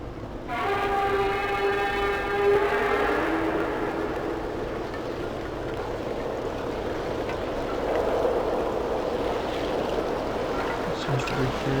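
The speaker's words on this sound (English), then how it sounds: "I'm sorry for the train in the background" A train passes in the background, its horn sounding in a long multi-tone blast near the start, followed by a steady rolling rumble of railcars that continues throughout.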